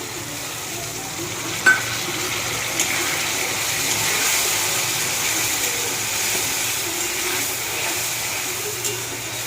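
Water from rinsing a bowl added to a pan of paneer curry, a steady broadband sizzle and bubbling hiss that fills the whole stretch, with a couple of brief clinks near the start.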